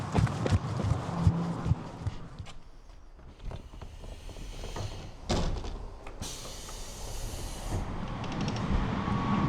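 An Anpanman express train in Shikoku, Japan rumbles and clatters past nearby, with loud broadband noise, brief hissing bursts and a steady mechanical roar throughout.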